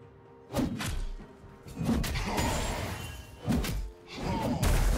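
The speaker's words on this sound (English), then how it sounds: "team's turret has been destroyed" Turret destruction in League of Legends: a series of heavy thuds and crumbling crashes recurring about every one to two seconds, loud and close, with no speech over them.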